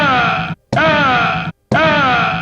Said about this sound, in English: These are all the punching sounds from Bad Dudes.